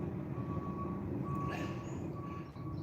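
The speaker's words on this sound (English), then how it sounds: "I swear he's revving that truck just to get on my nerves." A truck's engine rumbles steadily and loudly nearby at an icy winter fishing spot on a bank, with a high reversing beep sounding in repeated bursts over it and no talk.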